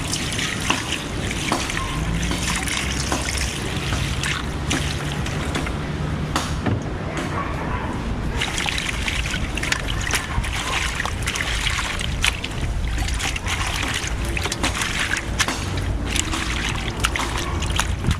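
Callaloo leaves being washed under running water, a continuous splashing stream with irregular sloshes and handling noises nearby.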